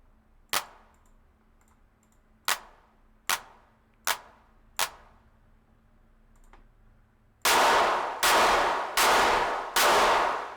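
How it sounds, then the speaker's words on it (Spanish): Drumazon drum machine clap sample with a techno preset, struck five times as sharp, sparse, dry claps, then four louder, denser and longer clap hits in quick succession. "la palma si la tocamos ahora mismo con este preset, fíjate cómo suena"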